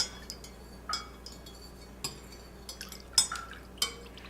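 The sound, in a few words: stirring limoncello mixture in a container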